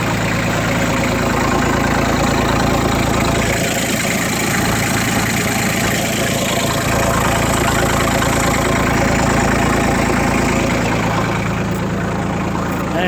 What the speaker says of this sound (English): it sounds just like this because the old muffler is rusting out